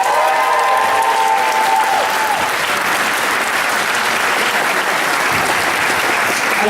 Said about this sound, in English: Big round of applause for Pete.